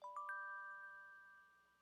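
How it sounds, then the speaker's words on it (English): Soft bell tones embellishing an R&B beat: a few quick bright strikes in a short rising run, then the top notes ring on and fade slowly, quiet and alone. "I added an embellishment with these bells."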